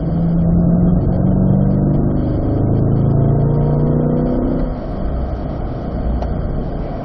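A C8 Corvette on a race track pulls hard with a steady, loud engine drone and rising pitch, then eases slightly near the end, heard from inside the car with no talking.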